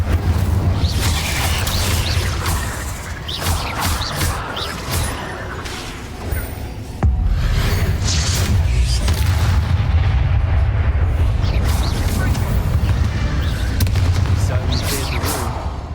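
In the Hogwarts Legacy video game, the Incendio fire spell is cast amid loud, booming combat effects that run throughout, and a voice speaks over the blasts.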